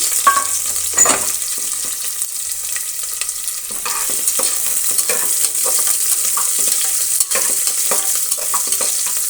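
Thin long slices of onion frying in a pan for a fenugreek-leaf green chicken biryani, with a steady loud sizzle broken by scraping stirs throughout.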